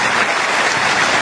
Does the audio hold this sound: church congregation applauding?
yes